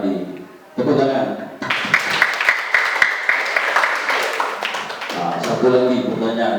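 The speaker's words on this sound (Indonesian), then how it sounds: "Tepuk tangan." A class of students claps for a classmate's correct answer during an Islamic religious studies lesson. About three and a half seconds of dense, close, lively clapping sits between stretches of a teacher's voice.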